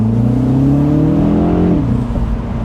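A 2025 MINI Cooper convertible's engine revving close up, a loud steady drone climbing in pitch before easing back, with no voices.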